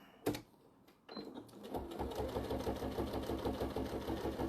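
A sewing machine stitches a bag, starting with a brief whir and then running in a steady, fast mechanical rhythm close by. The machine sits on a mat and wobbles as it runs.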